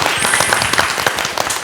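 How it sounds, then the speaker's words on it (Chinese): Audience applause at a Taiwanese-language comedy stage show, rising as a quiz contest begins: a dense, steady patter of many hands clapping, loud and close, running through the short moment without a break. "掌声要鼓励一下"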